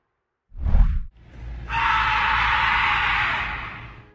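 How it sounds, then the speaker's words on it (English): Terrifying screams ring out loud and close: a short, raw shriek, then a longer sustained high-pitched scream held for about two and a half seconds. "Terrifying screams."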